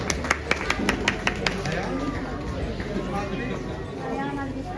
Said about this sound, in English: A round of applause for the kids.